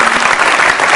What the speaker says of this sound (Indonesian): Kita ingin tepuk tangan untuk inspirasi dari mereka.